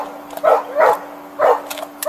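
Dog barking during a police arrest scene, several short loud barks in two pairs spaced about a second apart, close by, with a faint steady hum underneath and no talk.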